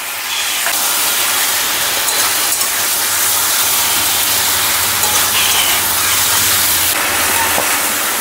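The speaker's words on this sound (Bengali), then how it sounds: "অল্প করে জল দিয়ে ভালো করে কষাবো।" A winter vegetable curry with Kashmiri dried chilli hisses in a pan as a little water is added, giving a loud, steady steam-like sizzle that runs unbroken throughout.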